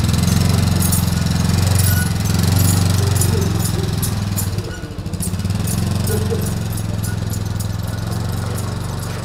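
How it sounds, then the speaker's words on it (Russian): Large, loud rescue service quad bikes drive close by with a heavy, chugging engine drone that dips briefly midway, then carries on steadily, with voices faintly underneath. "И даже покатали на больших и громких квадроциклах."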